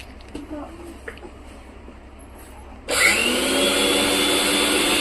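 A loud motorized whirring starts abruptly partway through and runs steadily, a mixer grinder at full speed grinding idli batter, after a quieter stretch with faint background sounds.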